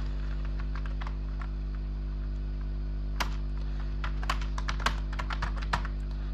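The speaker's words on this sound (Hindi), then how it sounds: "तो मैं अभी आपको बताऊंगा कि हमारी टाइपिंग की स्पीड क्या है और कैसे हो रही है ये हमारी टाइपिंग" Clicking keystrokes on a computer keyboard during Hindi-language typing practice, sparse at first and then in quicker irregular bursts, over a steady loud electrical hum.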